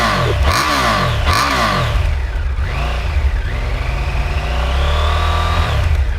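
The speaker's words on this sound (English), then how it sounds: "it also does give the bike a little bit more of a snarl at the exhaust" A 2024 Triumph Tiger 1200 triple revs twice in quick sharp blips, then accelerates away with a rising, snarling exhaust note that climbs steadily in pitch, loud and close with no voices.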